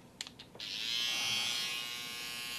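Electric hair trimmer switched on during a haircut, a few brief clicks and handling noises and then a steady close high-pitched buzz, with no talk.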